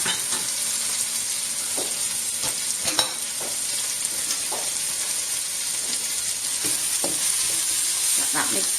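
Ground black pepper being stirred into spicy fried cassava (chilli mogo) in a pan: continuous close sizzling with scattered spoon scrapes and clicks against the pan, no talking.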